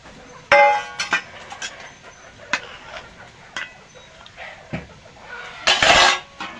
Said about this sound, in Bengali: এবার দিয়ে দেবো জল। এই ভেজে রেখেছিলাম আলুটা দিয়ে দেব।